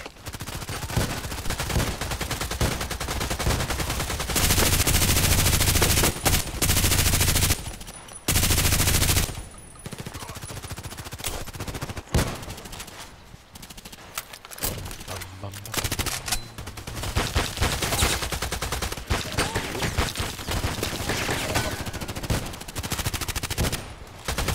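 Automatic fire from an RPK machine gun in the shooter game Contract Wars, loud sustained bursts with brief pauses, overlapping other gunfire across the scene.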